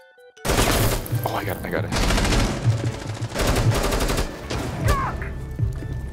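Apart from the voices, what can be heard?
gunfire in the video game Rainbow Six Siege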